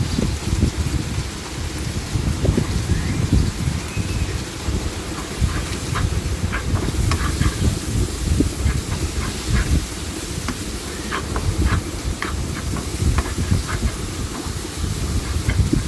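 Frozen tomatoes hit frying shrimp in a hot pan, raising a loud, dense, continuous hiss and crackle that stays close and unbroken throughout.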